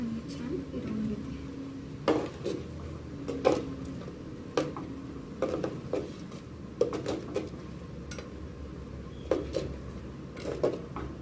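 A spoon stirs spicy chicken curry in a handi pot, giving soft scattered clinks and scrapes at close range over a faint background hiss.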